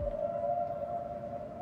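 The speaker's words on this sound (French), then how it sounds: "ces fameux sons étranges de baleines qu'on entend en fin d'épisode" A sustained, eerie tonal moan resembling whale song holds a steady pitch over a low rumble, alone and fairly quiet, used as an end-of-episode sound in the Netflix series Dahmer.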